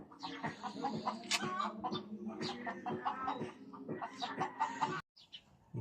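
Laying hens cluck and chatter close by in a rural coop, with busy, overlapping calls that fill the clip before a brief pause near the end.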